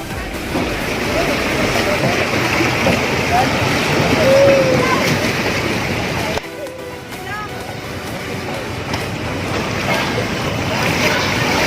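Sea waves wash and splash continuously at a Manila marina, a broad, close surf noise with wind, briefly dipping midway before resuming.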